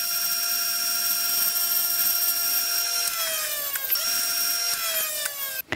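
A power tool grinds and smooths the raised knurling on a shortened Park Tool DSD-2 screwdriver shaft, a loud steady high-pitched whine with shifting pitch dips near the end and a sharp stop, no talk.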